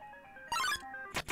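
A phone rings in the retro RPG Undertale, a short burst of bright electronic chiming tones over faint game music, followed by two quick sharp blips.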